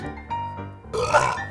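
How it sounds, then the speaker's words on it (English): Close, voiced burp from a drinker of dry-hopped beer, a short soft rumble followed by a louder, rougher release that fades out quickly. "A byproduct of dry hopping is the hop burp."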